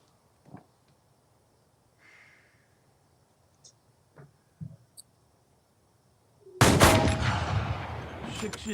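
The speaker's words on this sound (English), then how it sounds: "he's getting some practice shots" Practice rifle fire at an outdoor shooting range: a few faint clicks and small knocks, then one loud, close gunshot with a long, booming decay, and no talk.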